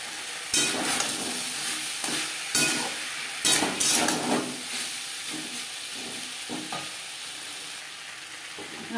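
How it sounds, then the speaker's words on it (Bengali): Vegetable stalks, spices and tomato sizzle steadily in a hot pan while a utensil stirs them, adding a few louder scraping strokes over the continuous frying hiss. "ডাটার সাথে মশলা ও টমেটো বেশ ভালো করে মিক্স করে দেবো"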